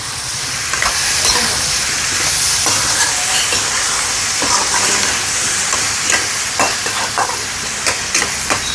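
Ash gourd frying in coconut oil with salt gives a steady close sizzle and hiss, with occasional stirring clatters breaking through the continuous frying noise, and no one speaks.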